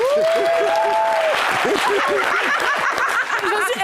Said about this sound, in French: on a applaudi pour Cheikh Ivan